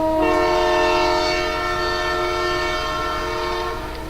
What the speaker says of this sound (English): Here's the 2 units shown from a previous video bringing a train into West Mill.